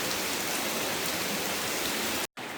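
Heavy rain pours steadily in the Sinharaja rainforest near a forest bungalow, a dense, continuous hiss close by with no voices, cut by a brief dropout near the end.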